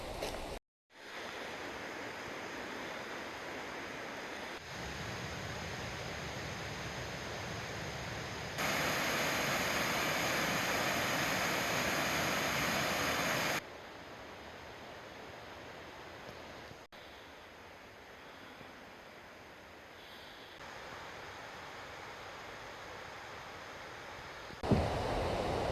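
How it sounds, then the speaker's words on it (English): Flowing water at the confluence of the South and North Forks of Citico Creek in a wilderness forest gives a steady, broad rushing roar that shifts in loudness from section to section, heard alone with no talking. "This is the confluence of the South Fork of the Citico Creek and the North Fork of the Citico Creek"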